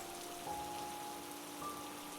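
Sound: light drizzle rain in a cartoon

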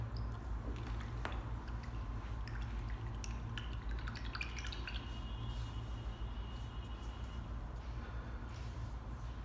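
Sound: paintbrush being washed out in water

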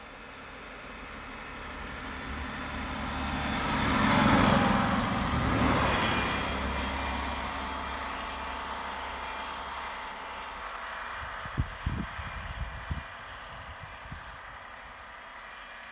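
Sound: Regional train RB 44 passing in the opposite direction

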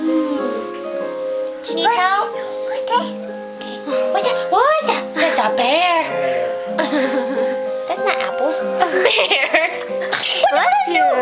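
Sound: child sneezing

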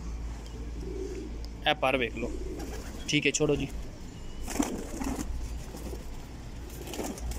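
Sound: pigeons cooing

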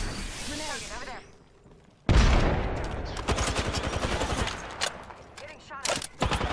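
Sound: gunfire from the video game Apex Legends

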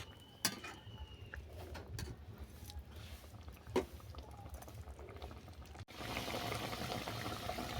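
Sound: mustard fish curry (bhola fish) boiling in the pot

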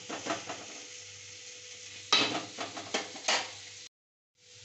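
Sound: stirring and frying chopped potatoes in oil

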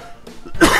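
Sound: coughing fit

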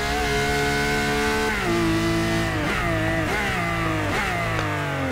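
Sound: Ferrari LaFerrari engine in Forza Motorsport 6 video game

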